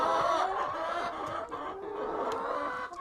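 Laying hens cluck steadily in a winter coop, a close, busy chorus of overlapping clucks and short calls with no voices.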